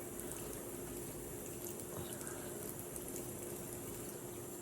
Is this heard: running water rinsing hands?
yes